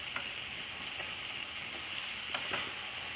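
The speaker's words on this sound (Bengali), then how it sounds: "মশলার সাথে আমার করলাটা আমি একটু কষিয়ে নিচ্ছি" Bitter gourd sautéing with spices in a pan gives a steady, soft sizzle with a few faint stirring clicks, heard alone without talk.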